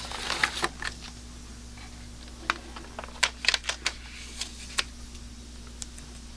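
Cutting a sheet of 8x10 Polaroid negative film from a roll in a darkroom: scattered soft clicks and snips over a steady low hum, close and quiet, with no voices.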